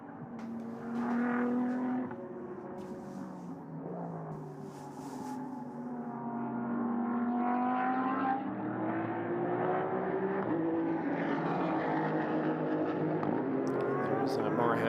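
GT race cars on the last lap of a sprint race at the Paul Ricard circuit, including a Lamborghini Super Trofeo: engine notes rise and fall as the cars pass and accelerate, moderately distant, under continuous commentary.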